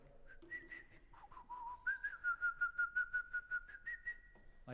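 A trombonist whistles a melody, with short sustained notes at first, then a quick run of separate notes, each cut off sharply by a closing in the throat. The whistling is close and fairly quiet, with no talking over it.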